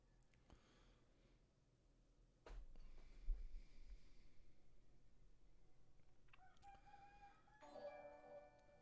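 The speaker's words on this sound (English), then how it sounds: "What do those roosters know that I don't know?" A rooster crows, a drawn-out call rising near the end after a stretch of quieter background sound with a brief thump partway through.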